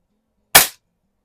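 A 1966 Diana Hy-Score 806 air rifle fires a single sharp, loud crack that dies away quickly, close up against a silent background.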